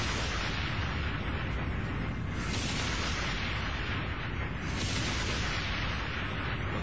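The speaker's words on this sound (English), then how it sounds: "Most terrific explosions ever captured on film." Dynamite explosions from old archival film make a continuous, heavy rumbling roar with a muffled, band-limited tone and a couple of surging blasts within the sustained thunder.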